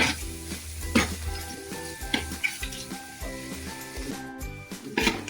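Ginger, garlic and green chilli fry in oil for beef pickle, with a crisp close sizzle and repeated sharp scrapes and taps of a spatula on the pan, and a faint tonal hum behind.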